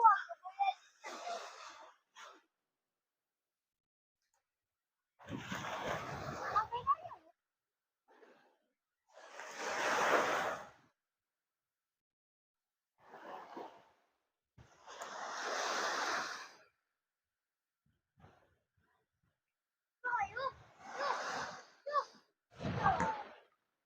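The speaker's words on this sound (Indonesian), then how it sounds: "menikmati deburan ombak" Waves break on the shore of Dusun Panglema in Desa Tanjung, Sumenep, in separate swelling rushes of surf with quiet gaps between them, some bursts fuller than others.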